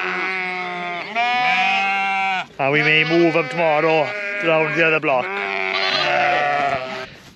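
Sheep on a rain-soaked spring pasture bleat loudly and repeatedly, several calls overlapping up close, while someone talks over them.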